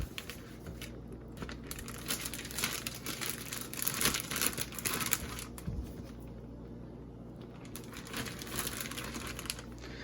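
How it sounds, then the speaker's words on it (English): A plastic resealable bag crinkles and rustles close up in irregular bursts, with soft thuds as raw chicken breasts drop into it. "I take my chicken breast and I just plop them in the bag."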